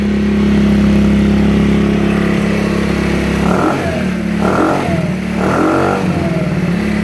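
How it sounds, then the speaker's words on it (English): A 50cc GY6 scooter engine with a new performance muffler runs steadily, then revs up in three quick bursts, each rise falling back to a rough, buzzing idle. "I'm gonna go ahead and start it up and we'll listen to it."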